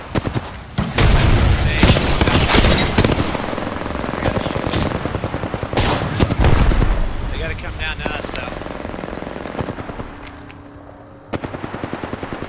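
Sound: gunfire in a shooter video game

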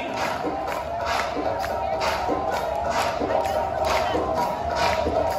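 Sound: crowd screaming and clapping at New Year's Eve celebration

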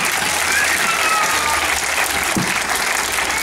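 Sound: applause

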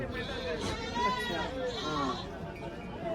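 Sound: goat bleating

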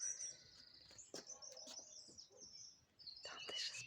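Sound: bird singing

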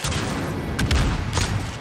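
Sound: gunshots in a video game

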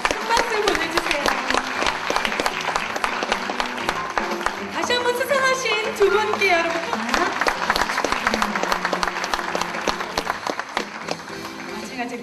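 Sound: audience applause at an award ceremony

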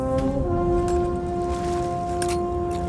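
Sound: horn tooting in Sea of Thieves video game

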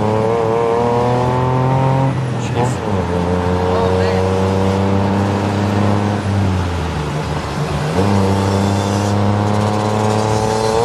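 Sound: turbo tuk-tuk engine revving during fast ride

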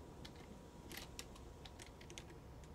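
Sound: typing on a keyboard in the video game Amanda the Adventurer

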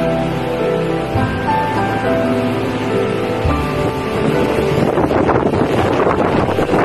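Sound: strong wind

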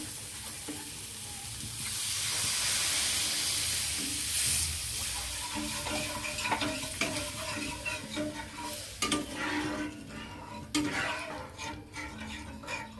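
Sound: mustard-poppy curry gravy boiling in a pan

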